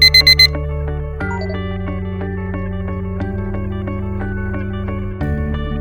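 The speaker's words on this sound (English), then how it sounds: "The new alarm sound is alarm 1." A tonal electronic alarm tone from the KEI voice control alarm clock iPhone app plays loud and continuous, opening with four quick beeps before a sustained multi-note synthetic melody that shifts pitch in steps.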